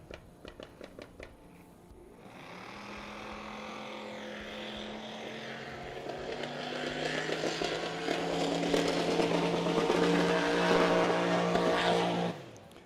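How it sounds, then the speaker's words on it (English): Pro eliminator drag car spooling up at a drag strip, a few sharp pops first, then a rising engine roar that builds loud and rough before cutting off abruptly. "when he spools it up, it's going to start popping and backfiring"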